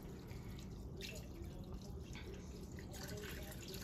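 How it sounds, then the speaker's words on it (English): Water poured over scuppernong grapes in a fermentation bucket for homemade wine, a steady, low rushing splash that holds evenly throughout without a break. "you're gonna take you some water and you're just gonna pour"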